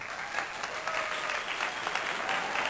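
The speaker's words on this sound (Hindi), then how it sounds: "तो एक बार तालियां तो" An audience applauds steadily and densely throughout, a continuous wash of many hands clapping at moderate volume, honoring a Padma Shri Indian mountaineer who summited Everest a record number of times.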